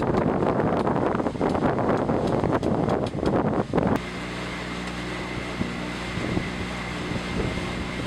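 A sailboat motor sailing in light wind of about 6 to 10 knots: at first a loud wind buffet on the microphone with water rush, then a steady low engine drone and hull wash for the rest.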